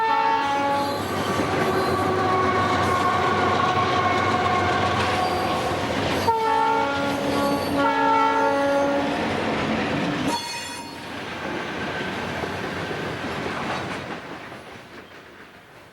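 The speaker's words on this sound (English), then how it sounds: "the Jeep 40 pulls a short train of empties on by" A short freight train of empty cars pulled by Jeep 40 rolls past a crossing on a steep high mountain mainline, its horn sounding in long tones over rumbling, squealing wheels, then receding with fading clatter.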